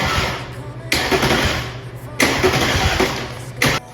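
A 2018 Audi S5 engine is cranked and started, with repeated loud bursts of turning over close up and a rough engine rumble that does not settle into a steady idle.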